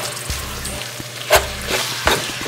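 Ground beef fries in a pan with a continuous close sizzle, broken by a few louder scraping stirs, and no one talking.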